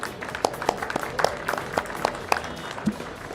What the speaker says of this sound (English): I think this deserves a big round of applause,